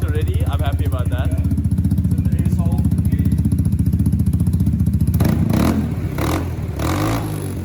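A 2023 Vespa GTS300 HPE Supertech scooter engine idles steadily and close by, with a throbbing low hum throughout and a rougher, busier burst of engine noise near the end. Voices can be heard briefly over it.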